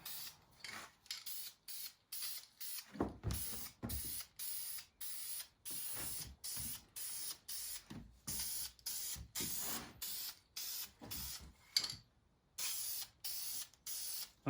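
Short hissing bursts of spray paint coat the engine bay under a car hood, dozens of quick repeated sprays with brief gaps and a couple of longer pauses, close and quiet, with no talk.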